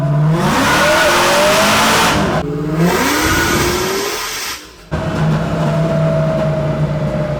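Car locked in gear on a dyno, its engine revving through a full pull: a loud, rising engine note that climbs, drops briefly at a shift or cut, then climbs again, close and continuous.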